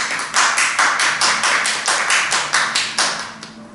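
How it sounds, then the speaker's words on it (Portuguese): Church congregation clapping together in a steady unison rhythm, about three claps per second, loud and close, with no talk over it. "Pode aplaudir o Senhor"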